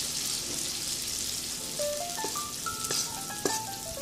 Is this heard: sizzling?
yes